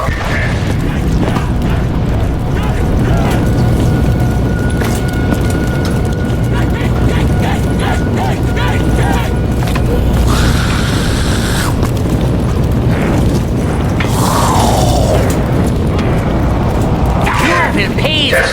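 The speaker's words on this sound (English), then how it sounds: "Initiating rocket test." A rocket test launch in the game Black Ops 3, Der Eisendrache: a loud, sustained rumbling roar with booming bursts and mechanical noise throughout, under intermittent voice announcements.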